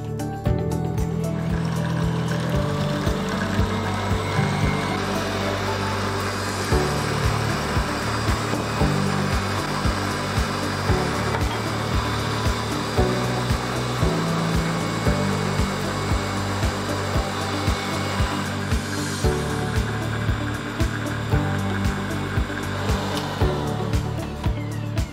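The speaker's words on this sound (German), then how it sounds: "Das schlage ich mir jetzt für gute 10 Minuten auf." An electric mixer whipping eggs in a bowl for a chocolate Wiener Boden sponge, a loud close motor whir running steadily throughout with slight wavering in pitch and load.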